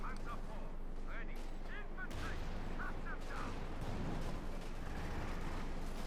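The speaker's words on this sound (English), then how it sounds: "The squad in the west almost taken out here by combined 50 caliber and BAR firepower" Heavy gunfire from a .50 caliber machine gun and BAR in a Company of Heroes 2 battle, a steady crackle of battle noise running under continuous commentator talk.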